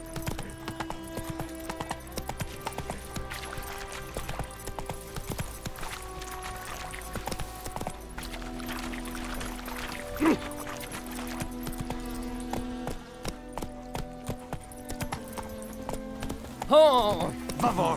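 Roach the horse gallops in The Witcher 3, hooves clip-clopping in a steady driving rhythm under game music, with a short neigh near the end and a voice speaking over it.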